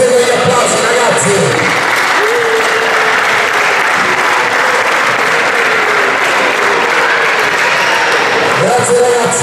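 Sustained applause from a crowd at the awards ceremony of an auto slalom race in Altomonte, Italy, a loud, even roar of many hands clapping for nearly ten seconds, swelling slightly at the start and end.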